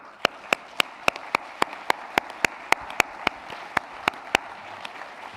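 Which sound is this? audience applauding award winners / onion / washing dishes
audience applauding award winners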